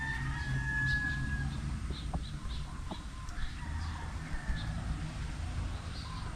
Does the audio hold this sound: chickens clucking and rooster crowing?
yes